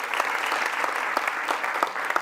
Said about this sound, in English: Can I get another round of applause for that